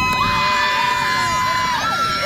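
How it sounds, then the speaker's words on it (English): Families greeting returning USS Billings sailors at Mayport fill the air with excited shouting, screams and cheering, a continuous dense crowd roar with high-pitched voices rising over it. "There were screams and laughter as they threw their arms around their loved ones."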